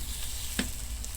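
Sisig being reheated on a hot sizzling plate, giving a short, steady crackling hiss with one brief louder pop.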